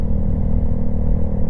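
Motorcycle engine running steadily up close while the rider downshifts to slow the bike, a continuous low rumble with slight shifts in pitch and no talk.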